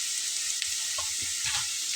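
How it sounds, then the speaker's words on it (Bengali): Onions sizzle and fry in a pan while being stirred, a steady soft hiss with a few light scraping and clinking stirs. "পেঁয়াজটা আমি 5 মিনিটের মতো একটু নাড়াচাড়া করে নেব"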